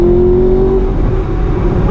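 A manual Audi R8 V8 with a loud exhaust accelerates hard from inside the car, a strong rising engine tone that levels into a dense, steady roar.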